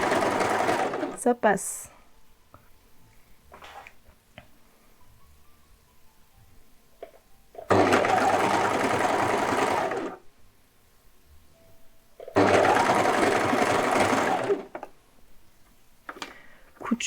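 A sewing machine stitches a side seam on a garment in two loud, steady bursts of a few seconds each, separated by quieter handling sounds. A person speaks briefly between runs.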